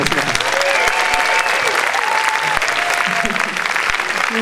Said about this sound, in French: je voudrais surtout que vous applaudissiez celle qui défriche le chemin